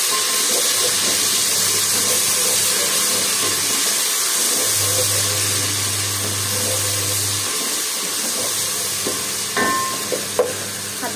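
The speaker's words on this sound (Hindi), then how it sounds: "ये इसमें अदरक लहसुन डालेंगे 2 चम्मच। अच्छा भून लेंगे।" Ginger and garlic paste frying in a pan with golden-brown onions for vegetable pulao, a loud continuous hiss and sizzle with a low hum partway through and a few small clinks near the end.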